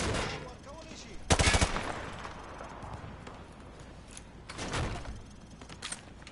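Gunfire penetrating light cover during Call of Duty Modern Warfare 2 Remastered training, a tight rapid automatic burst near the start and a softer volley later, close and loud over quiet room ambience.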